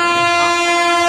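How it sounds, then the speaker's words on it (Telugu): A train pulls into a station, a steady loud horn blaring continuously over the rumble of the approaching cars, close and dominant with no talking. "అరే చింటూబాయ్ ట్రైన్ వచ్చినట్టున్నది."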